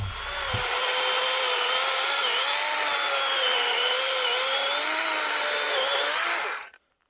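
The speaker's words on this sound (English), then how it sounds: "Cuts pretty well for a battery chainsaw." A battery chainsaw whines steadily as it cuts through wood, its motor pitch wavering under load, then cuts off abruptly at the end.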